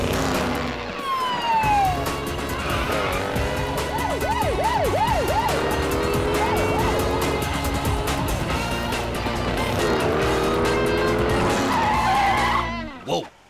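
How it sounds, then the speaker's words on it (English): Cartoon drag race cars roar past with whining, swooping engine tones and squealing skids, loud and busy with siren-like wails over a constant racing rumble before cutting off abruptly. "We got ourselves a drag race."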